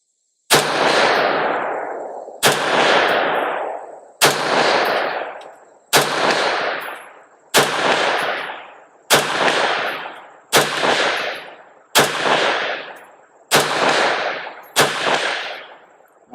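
Nine rifle shots, evenly spaced about two seconds apart, each a sharp loud crack with a long ringing decay as bullets strike steel targets 100 yards out, fired through a Banshee 2-10x30 FFP MPVO scope.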